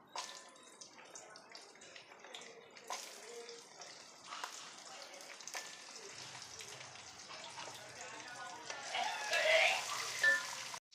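Garlic and shallots frying in a pan for tomato chutney, a faint, crackly sizzle with scattered pops and light clatter, swelling slightly near the end.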